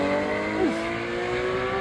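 A Porsche GT3 RS in ultra violet accelerates at a sports car meeting, its engine note rising steadily and loud over a brief, continuous pull.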